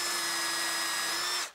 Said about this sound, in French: J'utilise un foret avec un fraisoir.